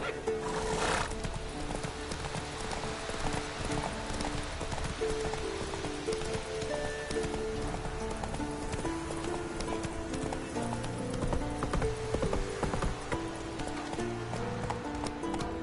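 A horse in a PS4 video game gallops with rapid continuous hoofbeats and whinnies loudly, over a busy backdrop of game sound.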